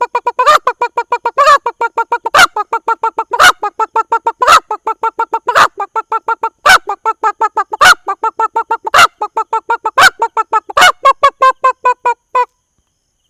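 A voice imitates a hen clucking, repeating short nasal squawks in a fast, steady rhythm with a sharp click between each group, loud and close.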